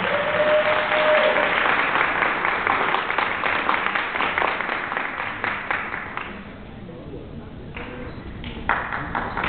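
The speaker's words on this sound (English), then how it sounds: "Please clap for Mrs. Nicole Brown." Applause from the audience at a Mrs. Baltimore County pageant crowning, dense clapping loud at first, then thinning and fading toward the end, with a brief tonal ping early on.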